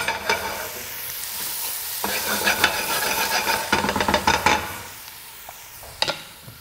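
Shallots sweating gently in olive oil in a pan over moderate heat give a soft, steady sizzle with bursts of scraping and stirring from a utensil, fairly close, and no voices.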